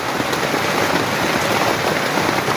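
Loud, unbroken downpour during a severe flood, thick hissing rain striking nearby surfaces at a constant intensity, with no talking.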